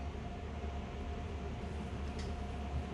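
Freight train engines in the Train Sim World video game, a CSX freight transfer in New York City, rumble in a steady, low, continuous drone with faint rolling rail noise and no talking.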